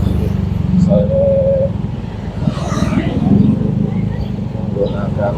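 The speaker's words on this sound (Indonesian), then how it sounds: "mohon maaf kalau terganggu dengan suara klakson dan knalpot racing" Traffic noise from motorbikes with racing exhausts and cars passing nearby in Makassar, recorded from a moving motorcycle, with engine rumble and a brief horn tone, under steady talking throughout.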